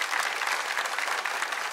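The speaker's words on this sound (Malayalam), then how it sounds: "നിങ്ങളുടെ ആ ഒരു കഴിവിന് കൊടുക്കണം നല്ലൊരു കയ്യടി" A studio audience at a Malayalam comedy show bursts into steady, dense applause, many hands clapping evenly and fairly close throughout.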